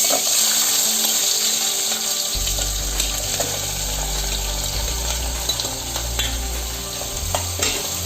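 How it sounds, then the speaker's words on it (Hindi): Cumin, chopped potatoes and onions hit hot oil in a pan and sizzle loudly and steadily while being stirred, close up with no speech. "1 चम्मच जीरा डालेंगे और ये जो आलू और प्याज हमने काट के रखे थे ये डाल देंगे।"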